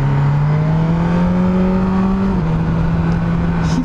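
A BMW S 1000 R 2022 motorcycle pulls hard with a loud, rising engine note close by, then a quick quickshifter upshift drops the pitch briefly before it climbs again, with no voices.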